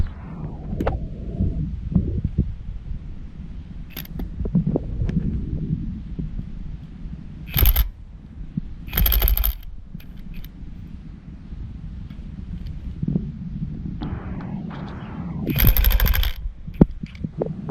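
A German Hazet impact wrench on speed 1 removes 80 foot-pound lug nuts, firing in a few sharp, loud hammering bursts separated by quieter pauses and low background handling noise.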